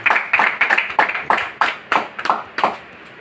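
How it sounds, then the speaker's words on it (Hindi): An audience at a village meeting claps to welcome a doctor to the stage: a thin, rhythmic run of separate handclaps, close and fairly loud, fading out after about three seconds. "जोरदार तालियों के बीच में बुलाना चाहता हूँ"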